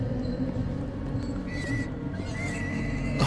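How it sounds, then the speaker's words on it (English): Pigs squeal while being slaughtered in the horror game The Medium, shrill drawn-out cries rising over a low droning rumble, with no talking. "It literally is pigs being slaughtered."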